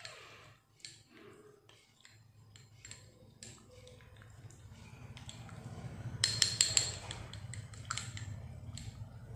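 Spoon stirring a skincare mixture with lime juice in a bowl, producing irregular light clinks and scrapes that grow busier, with a quick cluster of sharper taps near the end over a low background hum.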